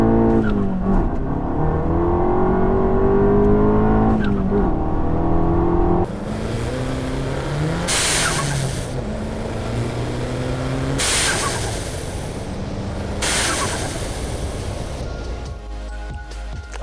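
A VW/Audi engine fitted with a diverter valve spacer starts and idles loudly nearby, with a steady running drone, a few revs, and sharp bursts of hiss from the intake.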